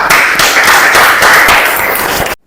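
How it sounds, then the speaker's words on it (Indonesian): A classroom of students claps hands together in a quick, loud burst of rapid overlapping claps lasting about two seconds, close by, then stops sharply. "tepuk tangan dong buat kesiapan kita"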